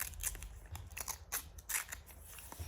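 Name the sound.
scissors cutting a small piece of paper in two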